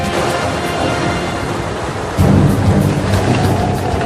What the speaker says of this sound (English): you have occasional cloudbursts where it rains very hard